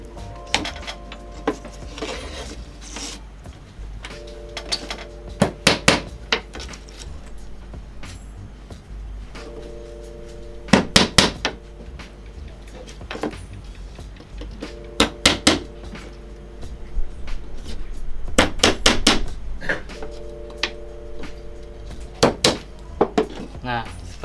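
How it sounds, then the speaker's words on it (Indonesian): A hammer drives nails into the frame of a hydroponic water filter. Sharp, close knocks come in quick clusters of two to four, spaced several seconds apart, over a faint steady tonal hum. "Kita kasih paku lagi."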